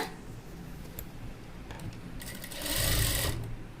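A sewing machine stitches a folded pant hem with a fast, steady mechanical whir, close by, building to a louder, denser burst of stitching near the end, alone without talk.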